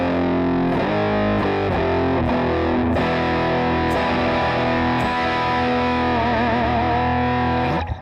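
Electric guitar run through distortion and wah effects in the IFX Rack virtual effects app on iOS: a thick, buzzy, sustained distorted tone with picked notes and chords, and a wah sweep that wobbles audibly near the end, loud and continuous.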